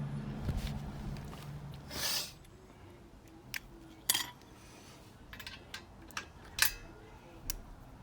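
A ratchet tightens race exhaust pipes on an old race motorbike, giving a few sharp, isolated clicks spaced seconds apart over a quiet background.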